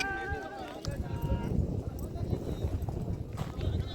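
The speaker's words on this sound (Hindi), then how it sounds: "હા આવે છે હજી ઘોડાઓ આવે છે પાછળ." Horses galloping in a horse race in Kutch, Gujarat, with hoofbeats under a constant loud crowd and commentary, plus some whistle-like tones early on.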